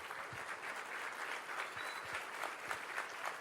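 A church congregation applauds during a Spanish-language sermon, steady, fairly faint clapping from many hands with a roomy, distant quality throughout.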